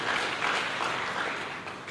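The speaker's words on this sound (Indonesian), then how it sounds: "Mereka tepuk tangan ya mereka betul." Audience applause during a church sermon, a dense wash of many hands clapping steadily and fairly loud throughout, with no voices over it.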